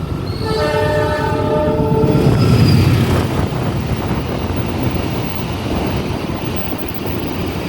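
A passenger train in Indonesia sounds a long, loud multi-tone horn as it passes at a crossing, followed by a heavy, continuous rumble of rolling railcars close by.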